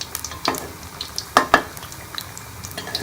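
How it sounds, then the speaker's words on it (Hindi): Atta biscuits deep frying in hot oil give a close, steady crackling sizzle, broken by a few sharper pops and bursts of bubbling, with no voices. "इसको डीप फ्राई करना है ताकि दोनों तरफ से एक ही बार पक जाए।"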